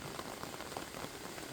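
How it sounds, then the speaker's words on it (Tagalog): Heavy rain falls steadily on garden plants, including gardenias and moringa, a dense, even hiss of drops with no voices. "dahil sobrang ulan ngayon"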